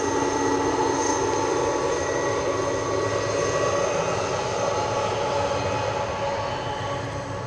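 A Delta airliner at Edinburgh airport gives a steady, loud engine roar with a broad rushing hiss, holding constant and fading slightly toward the end.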